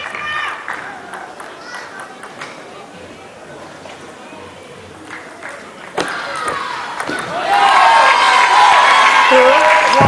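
Subdued applause and crowd noise from the Malaysian team at a men's team table tennis semi-final against Vietnam at the SEA Games, low and scattered at first, then swelling into louder, fuller clapping and cheering near the end.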